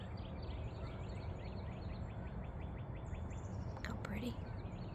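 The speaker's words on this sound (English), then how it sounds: "The birds are singing." Birds chirp and sing outdoors on a morning by water, a series of short repeated calls near and far over steady broadband background noise.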